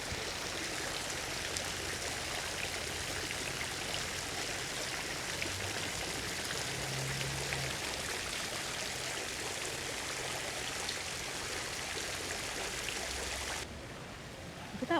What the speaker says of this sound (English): Look at that water spout.